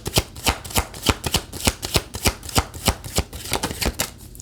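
Tarot cards being shuffled in a steady, rhythmic run of crisp riffles, roughly three per second, close and clear with no talking.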